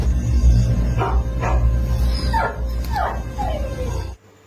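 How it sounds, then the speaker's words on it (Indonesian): A dog outside a house in a film gives a series of five short, rising yelps and whimpering barks at about half-second intervals over a low rumbling background that cuts off abruptly at the end. "ia pun mendengarkan sedikit gonggongan anjingnya yang terdengar di luar rumahnya"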